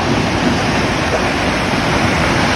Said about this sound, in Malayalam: വെള്ളം ഇതാ ഫോഴ്സിൽ ചാടിക്കൊണ്ട് കേട്ടോ